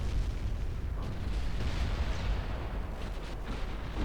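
Torpedoes detonating in the naval warfare game Ultimate Admiral Dreadnoughts, a dense, continuous roar of overlapping explosions and rumbling booms filling the whole stretch, loud and heavy in the low end with no voices.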